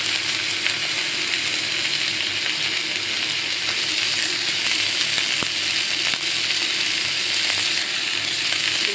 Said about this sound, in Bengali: ঘি দিয়ে আমি পেঁয়াজ আর ক্যাপসিকামটা একটু ভেজে নেব।